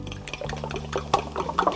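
Beaten eggs pour into a pan of leftover vegetables for a frittata, a brief wet, liquid spatter with soft sizzling ticks and splashes, close and quiet.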